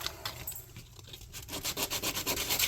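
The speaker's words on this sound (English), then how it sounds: "I'm using a fairly aggressive sandpaper because I want to make scratches for the solder to sink into. It's 100 grit." Coarse 100-grit sandpaper rubbed against metal in steady back-and-forth strokes, close and fairly loud, the rhythm growing more regular toward the end, with no talking.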